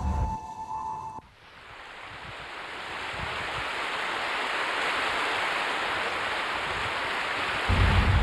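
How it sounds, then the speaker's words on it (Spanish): Rapids on the Paraná River, a broad steady rush of churning water that builds gradually after a brief quiet moment and holds at a moderate, continuous level. "el río Paraná corre en un lecho plano con numerosas islas, escollos e innumerables rápidos"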